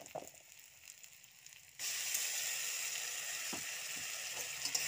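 Gobi manchurian cauliflower pieces drop into hot oil, starting a loud, steady sizzle that fills the rest of the moment after a quieter opening with light clinks.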